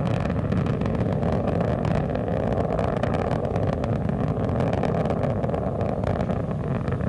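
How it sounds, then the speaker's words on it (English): Space Shuttle Atlantis's three liquid-fuel main engines roar at launch, a loud, dense, unbroken rumble that holds steady from start to finish with no voices. "the three liquid fuel main engines begin to throttle back in a three-step fashion"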